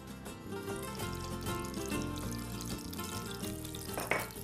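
Oil and ghee sizzle in a pan, ready for frying chicken malai tikka: a soft, continuous crackling fry heard faintly under steady background music, with no voice.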